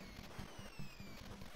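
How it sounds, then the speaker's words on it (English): An explosion in the Contra video game is a faint, low, rumbling crackle of repeated booming pops. "Ah, that explosion. Area effect."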